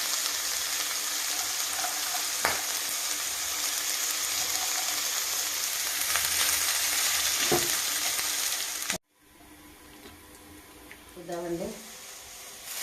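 Cashew nuts frying in a pan, a loud continuous sizzle with occasional stirring clicks that stops abruptly, followed by quieter room sound and a short voice.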